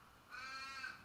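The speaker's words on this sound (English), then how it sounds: "Can you hear the crows that are going off outside my window?" Crows caw outside a window in a short burst of several harsh calls, moderately close against a quiet room background.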